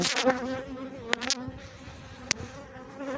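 Hybrid Buckfast bees buzzing close by at a hive in a steady drone, with a couple of sharp ticks as insects bump past.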